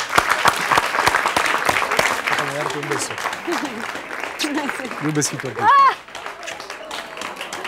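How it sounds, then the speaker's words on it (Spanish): Studio audience applause on a live Peruvian talk show interview, a steady clatter of clapping under ongoing talk and laughter, with voices speaking over it throughout and a brief louder burst near the end. "un aplauso para ella, por favor"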